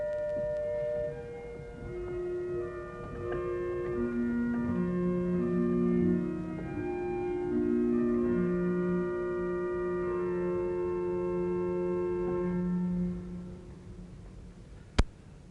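A single oboe reed stop on the swell division of the Beverley Minster pipe organ plays a slow, sustained melody over held chords in a reverberant church, with a reedy, slightly old-fashioned tone, ending with a sharp click.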